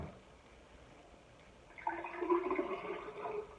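Orange juice poured for brunch mimosas, a soft, steady liquid splash that starts partway through after near silence and continues faintly to the end.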